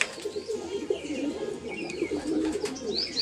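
Pigeons feeding on scattered grain coo softly and repeatedly nearby, low throaty calls pulsing throughout, with a few faint chirps and light rustling in the background.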